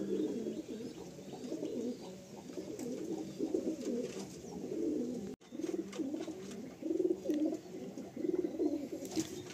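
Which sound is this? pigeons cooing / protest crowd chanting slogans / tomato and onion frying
pigeons cooing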